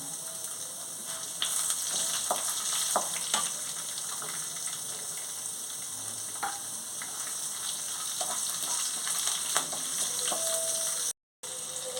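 Cumin seeds, urad dal and dried and green chillies crackle and sizzle steadily in hot oil in a pan, with a few sharp pops and faint stirring taps running through; no voices.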